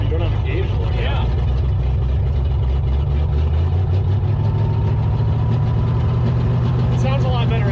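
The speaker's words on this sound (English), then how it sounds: "It sounds a lot better at an idle." A 1936 Ford pickup's flathead V8 idles steadily and loudly up close, a low rumbling drone running under people talking throughout.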